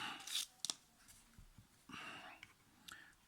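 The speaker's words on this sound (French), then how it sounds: "Ma paire de ciseaux." Small scissors snip cotton wick while a rebuildable dripper atomizer is being wicked, giving a few quiet, crisp close-up cuts in short bursts with faint breathing and handling between them.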